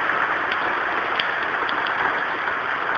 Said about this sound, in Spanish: Y sigue lloviendo.